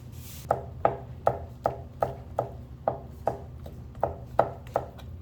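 A knife chops steadily on a cutting board, about a dozen crisp, evenly spaced cuts close by, with no talking.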